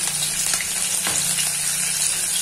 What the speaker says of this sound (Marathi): मिरचीचे तुकडे आणि आलो हे घातलंय आपण. हे चांगलं भाजून घेऊया,